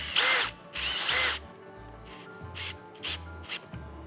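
A power drill drives screws into a wooden box in short bursts: two longer whining runs at the start, then several quick, shorter pulses, close and loud with no talking.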